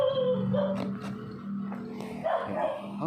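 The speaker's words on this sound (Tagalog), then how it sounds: "Ang daming epal na aso talaga sa mundo." A dog barks in a few sharp bursts and whimpers in between, fairly close against outdoor background noise near tall grass.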